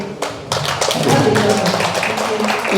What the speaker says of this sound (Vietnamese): Cho thầy một tràng pháo tay.